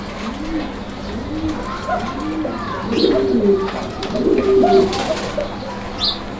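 Pigeons coo repeatedly in soft, rolling phrases, several birds overlapping at close range at a pigeon market, with a steady low hum beneath.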